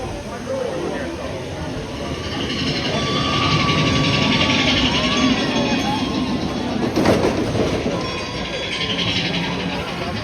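A Disneyland Railroad steam train runs with a steady rumble and rolling rail noise, with crowd chatter and voices audible over it throughout.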